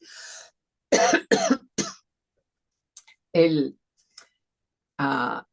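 A few short, harsh bursts from a nearby voice, like a person coughing or clearing the throat, separated by brief pauses.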